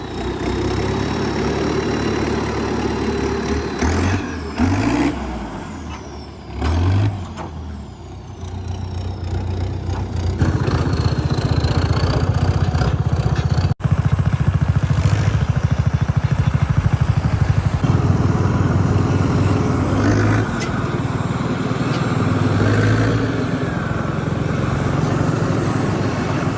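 A Sonalika RX 60 tractor pulling a hitched trailer runs with a steady, loud diesel drone. Its pitch shifts and rises in the first seconds, then holds as a continuous rumble through the rest of the drive.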